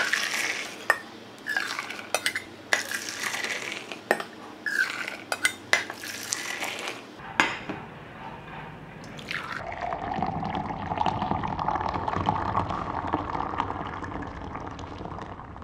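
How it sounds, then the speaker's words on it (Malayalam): Instant coffee is poured back and forth between cups. Cups knock and clink sharply at first, then a continuous splashing pour runs steadily until the end. "വേറൊരു കപ്പിലോട്ടും ഇത് ആറ്റി നമുക്ക് ഗ്ലാസ്സിലോട്ടും ഒഴിക്കാം."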